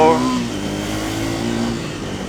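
A Triumph Thruxton 400 motorcycle, a 400 cc single, idling with a low steady exhaust burble close by, a slight rise at the start then an even thrum, with talk over it.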